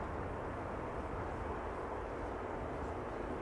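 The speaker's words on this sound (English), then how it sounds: "KLM Malta Airlines, formerly known as Air Malta, sending us an A320 that is arriving from" An Airbus A320 from Malta arrives at Amsterdam Schiphol Airport, its engines a steady broad roar of jet noise heard from a distance without a break.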